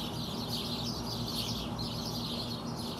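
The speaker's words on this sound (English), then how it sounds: "So this chirping is coming from this tree." Birds chirp continuously from within a tree beside a roadside gas station, a dense overlapping chorus of high tweets holding steady throughout at moderate distance.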